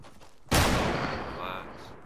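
Heavy gunshots in a video game: a sudden loud blast with a long rolling decay, close and dominant.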